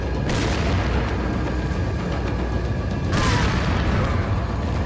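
Explosions in the video game Resident Evil 4: two loud, sustained booms, one near the start and another about three seconds later, each trailing into a dense roaring rumble.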